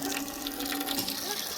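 Water runs steadily from a tap, splashing and filling a container with a continuous bright rush for pigs to drink, close by with no clear talking.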